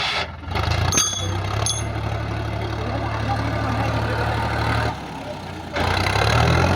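A Sonalika DI 50 RX tractor engine runs throughout a pulling test, a steady low droning hum with a few brief dips and knocks, heard close under outdoor background noise.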